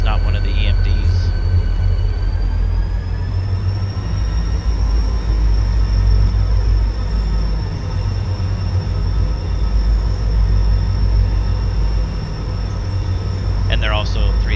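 Custom-sound 3,000 hp diesel locomotive approaching in Railroader, a loud steady engine drone with a high whining tone and faint wheel squeals, heard alone and continuously.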